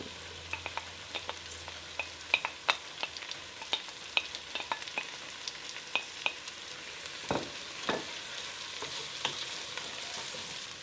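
Salami and bacon render in a pan, crackling and sizzling steadily with frequent sharp pops and occasional louder spits, close and alone with no voices.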